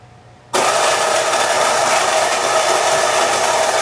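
Burr coffee grinder, its burrs set coarser after espresso, grinding Lost Origin beans for brewing: a sudden start half a second in, then a loud, steady whirring roar held without a break, close and alone.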